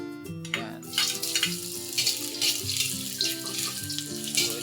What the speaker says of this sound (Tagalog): igigisa na natin kunting mantika. Unahin natin ang luya.